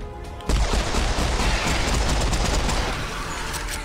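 Rapid gunfire from dual pistols in the video game Serious Sam 4, a dense, loud burst of overlapping shots and booms that begins sharply about half a second in and keeps up steadily to the end, with no talking.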